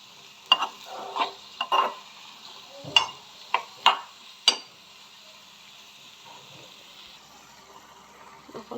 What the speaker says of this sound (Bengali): এবার আমি করবো স্বাদ মতো লবণ অ্যাড করে এগুলোকে আমি ভালোভাবে তেলের মধ্যে কষিয়ে নেব।